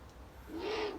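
A falconry owl gives a single soft, low hoot, faint and brief against quiet background hiss.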